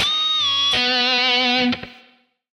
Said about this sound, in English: I've also got a little pinch harmonic in there when I bent it up.